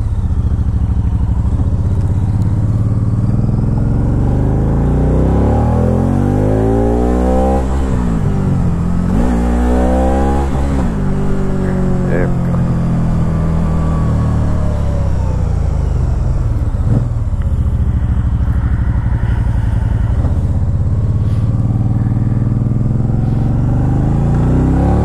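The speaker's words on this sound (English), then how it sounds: "it'll downshift itself to make sure you're not like over revving it or beating it up too much" A 2012 Can-Am Spyder RT-S three-wheeler engine revving loudly and steadily, pitch climbing and dropping as it shifts down through the gears, close and continuous with no talking.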